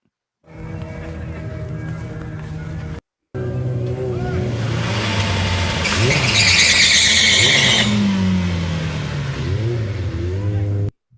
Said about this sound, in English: I think I have a burnout clip of it too